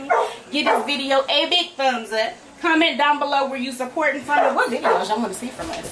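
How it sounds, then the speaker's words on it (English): Dogs bark and yip while roughhousing in a backyard, faint and in the background beneath continuous close talking. "And you can hear the dogs in the background."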